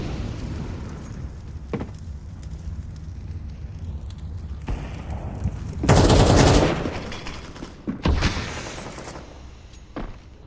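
Gunfire during a competitive Counter-Strike match: a constant background wash of game noise broken by several sharp shots, with a dense loud burst in the middle and a few more bangs after it.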